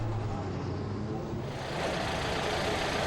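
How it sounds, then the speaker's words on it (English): British Formula 3 racing car engines drone and rev loudly together before the race start at Hockenheim, a steady broad roar that swells slightly partway through, with no talk over it. "The revs rise as they wait for the start here at Hockenheim."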